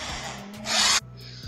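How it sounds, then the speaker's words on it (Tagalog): An electric drill bores into wood in a brief, close grinding burst, with rubbing and scraping before and after it. "Oh, itu naman ay barena."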